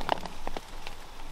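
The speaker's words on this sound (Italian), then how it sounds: "ma ragazzi qua piove" Rain falls on and inside an abandoned, derelict Fiat 1100 car, a soft steady patter with a few sharper drips close by, faint and without speech.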